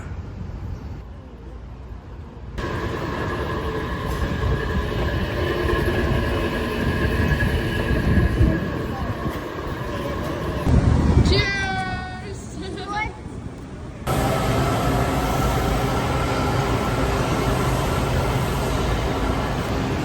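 A train rumbles along the rails at a museum in the USA with steady clattering and a brief wheel squeal, while people talk and a short exclamation is heard.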